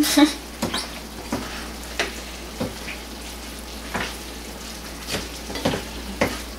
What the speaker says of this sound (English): Now you just stir it up together and cook it until it is like mixed together well.